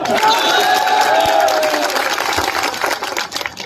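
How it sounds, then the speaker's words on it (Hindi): A crowd at an outdoor political rally in a village bursts into sustained clapping and cheering, loud and dense, with raised voices mixed into the roar before it tapers off. "अगर याद है तो ताली बजाओ।"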